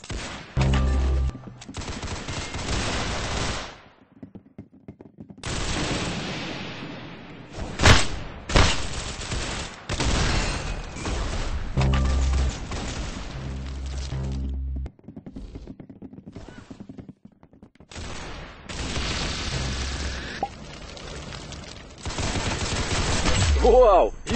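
Video game gunfire with slowed-down guns crackles in repeated bursts and single shots, loud and close, broken by short silent gaps, with voices talking at times between volleys.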